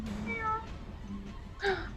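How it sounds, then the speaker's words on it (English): A cat meows twice, close and clear: a drawn-out meow early on and a shorter, sharper one near the end, over a quiet room background. "Kitty cat."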